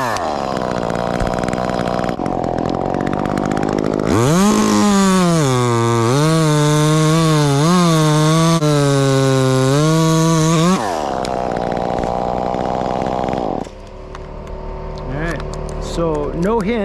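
A chainsaw cuts through a heavy, decaying leaning tree, idling, then revving hard into a long loud cut with shifting pitch before dropping back to idle; the saw is close and dominant.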